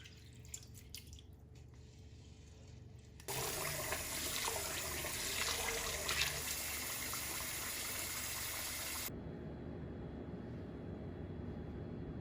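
Steady running water pours and splashes loudly in a sink as rice is rinsed, with a quieter trickle and sloshing before and after the main gush.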